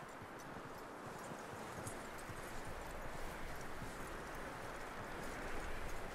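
A horse clip-clops at a steady walking pace in Red Dead Redemption 2, hoofbeats sounding over a soft, constant outdoor rustle with no one speaking.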